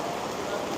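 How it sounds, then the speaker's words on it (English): Heavy rain pouring down, heard from beneath an awning at a street protest: a dense, constant roaring hiss filling the whole moment, with a voice faintly present underneath. "The rain is deafening."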